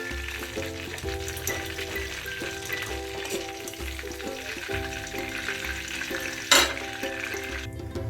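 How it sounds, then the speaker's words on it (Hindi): Chicken 65 pieces frying in hot oil, with a loud continuous sizzle and bubbling close up and a brief sharp clatter near the end, no talking. "तो चलिए इसी तरह हम पूरा फ्राई कर लेते हैं"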